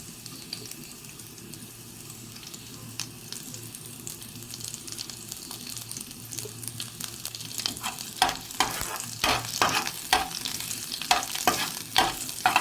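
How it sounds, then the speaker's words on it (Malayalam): Curry leaves crackle and sizzle in hot oil as the pan is stirred, with sharp popping bursts that grow louder and more frequent over time, close and alone without talk. "ഇനി ഇതിലേക്ക് നമുക്ക് കറിവേപ്പിലയും കൂടി ഇട്ട് കൊടുക്കാം"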